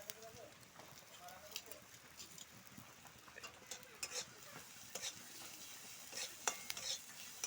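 Chopped onion, green chilli and crushed ginger and garlic stirred in a pan, a quiet sizzle broken by irregular scraping and clinking of a utensil against the pan.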